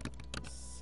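Keystrokes on a computer keyboard as a command is entered in Windows 7, a few quiet clicks followed by one louder thump of a key press at the end.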